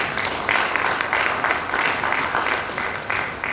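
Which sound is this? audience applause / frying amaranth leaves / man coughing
audience applause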